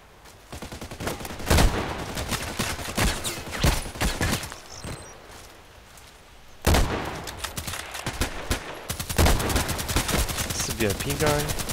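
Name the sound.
gunfire in a video game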